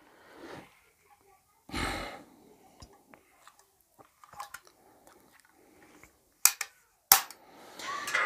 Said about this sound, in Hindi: इस लॉक को आप इसी तरह से यहाँ पर रखिए और एक झटका मारिए और आपकी जो है गम गन जो है असेंबल हो जाती है